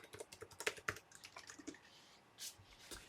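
Rapid keystrokes on a computer keyboard while a password is entered during an Active Directory Domain Services setup, a short burst of close, crisp key clicks.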